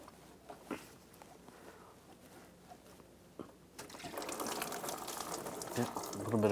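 Coolant draining from a removed thermostat hose on a BMW 328i xDrive 3.0L runs into a bucket. A quiet first half gives way to a steady, louder splashing trickle of liquid that builds toward the end.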